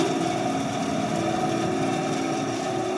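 Motor of a TORQ BS250 10-inch band saw running freely, a steady, even mechanical hum with a constant whine, close by and unchanging, no voices.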